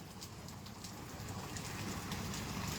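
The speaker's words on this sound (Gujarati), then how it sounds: "અત્યારે હજી ચાલુ છે વરસાદ" Light rain falls steadily in Halvad, a soft continuous patter and hiss of drops on surfaces, even in level throughout with no voices.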